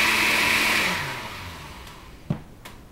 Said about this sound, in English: I'm gonna destroy this blender in our last video ever.